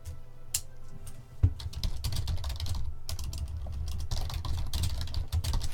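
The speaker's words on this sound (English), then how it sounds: "Oh boy, typing." Rapid typing on a computer keyboard clatters continuously at close range, with dense, irregular key clicks and an occasional louder thump, and no voices over it.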